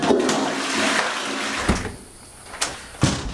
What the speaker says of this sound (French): c'est pas bien les gens qui tirent la chasse d'eau dans le vide